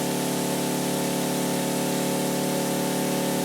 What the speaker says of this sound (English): There we go, spraying. It's relatively quiet